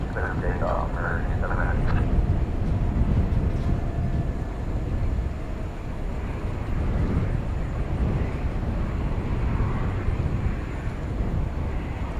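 Airplane landing at DFW Airport at night, a steady broad roar of jet noise holding throughout, with people talking over it.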